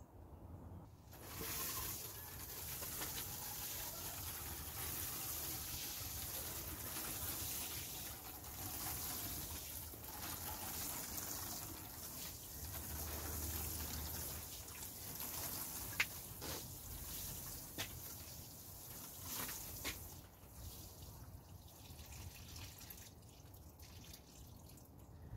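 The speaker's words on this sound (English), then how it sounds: "these are going to have a really good water." Water pours steadily over lettuce seedlings in sowing modules inside a polytunnel, a continuous close trickling and dripping spatter with a few brief louder drips near the end, no talking.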